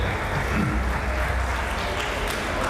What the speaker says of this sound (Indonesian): Tepuk tangan untuk MS kita.